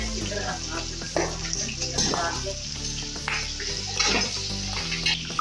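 Pieces of duck meat fry and brown in a pot for murghabi curry, sputtering and crackling close by with uneven bursts of sizzle and occasional scraping.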